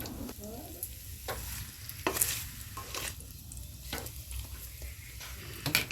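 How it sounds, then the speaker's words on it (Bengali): Tamarind stirred into hot oil with spices for a sweet-sour tamarind pickle, a steady close sizzle with repeated scraping strokes of a spoon against the pan, no voices. "এবার এর মধ্যে তেঁতুলটা দিয়ে খুব ভালো করে তেঁতুলগুলো তেলের সঙ্গে নাড়াচাড়া করে"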